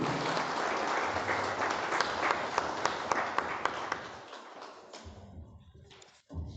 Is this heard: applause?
yes